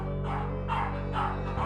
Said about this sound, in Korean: 집에 오는 외부인을 경계하고 짖어댔던 콩이의 행동